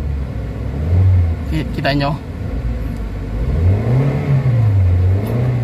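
A Toyota Avanza with low power, delayed throttle response and weak pulling on climbs revs up twice, its engine note rising and falling in loud sweeps up close, while someone talks over it.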